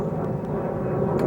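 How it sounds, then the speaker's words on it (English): A jet aircraft passes overhead, its broad, steady roar holding loud and even throughout with no other sounds over it. "Complete with the sound of a jet flying over."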